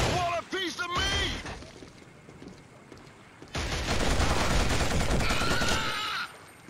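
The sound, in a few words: gunfire from the video game Killzone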